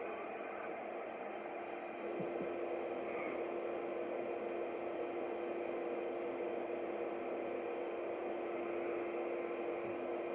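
A steady, droning motor whine runs unbroken throughout, loud and close, like a vacuum cleaner running nearby.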